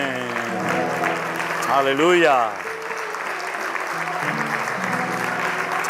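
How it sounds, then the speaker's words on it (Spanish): Congregation applauding in a church, a broad, continuous patter of clapping beneath a singing, praising voice, moderately loud throughout. "Fuerte ese aplauso a nuestro Dios"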